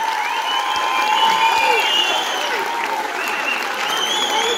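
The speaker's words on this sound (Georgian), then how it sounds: "აბა მეგობრებო, დღეს თავარი გმირი მინდა უფრო გუხარე აპლოდისმენტები" Audience applause for Dachi Kheladze at an event honouring a young boy, steady, dense clapping sustained throughout with whistles and cheering voices mixed in.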